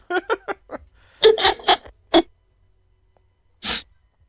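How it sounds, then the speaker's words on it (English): A single sneeze bursts out after a run of short breathy vocal sounds and a pause, close and fairly loud. "Go sneeze."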